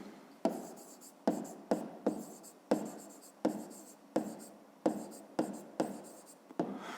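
A pen scratches out short handwritten strokes on paper while a geometry problem on a box's height is noted down, coming in quick bursts of about a dozen separate marks, quiet and close.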